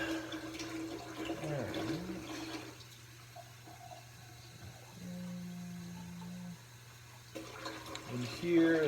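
Hot water is poured for an elephant toothpaste chemistry demonstration, making a soft splashing, running-water sound near the start that drops to a quiet hum before returning briefly at the end.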